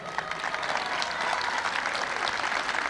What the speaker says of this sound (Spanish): Un aplauso y gracias